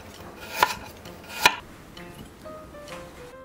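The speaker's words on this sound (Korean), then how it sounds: "감자 3개 정도 준비하고 껍질을 벗긴 뒤 얇게 썰어주세요" A knife slices through peeled potatoes in two sharp, separate cuts a little under a second apart, then a quiet kitchen with faint clatter.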